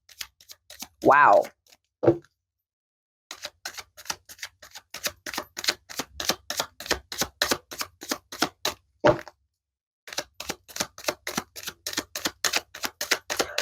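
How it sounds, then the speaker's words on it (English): Tarot cards are shuffled in rapid bursts of crisp, clicking flutters, with a few brief pauses between rounds, close and fairly quiet, and a voice briefly speaks near the start. "I'm going to shuffle a little more, guys"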